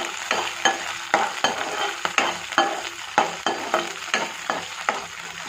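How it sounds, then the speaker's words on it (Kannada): Green peas frying in a hot tempering, a steady sizzle broken by regular scraping strokes of a spoon stirring the pan, close and fairly loud. "ಒಂದು ನಿಮಿಷ ಅದನ್ನು ಒಗ್ಗರಣೆಯಲ್ಲಿ ಫ್ರೈ ಮಾಡ್ಕೊಂಡಿದ್ದೀನಿ"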